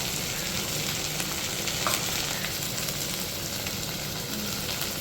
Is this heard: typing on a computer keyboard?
no